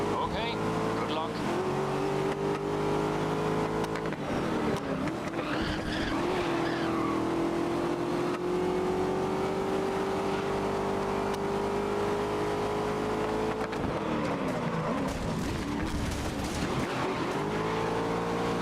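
Race car engines in GRID (2019) rev and hold a steady high drone, with tire squeal and skidding over a continuous motor roar and a pitch drop near the end, sitting under talk.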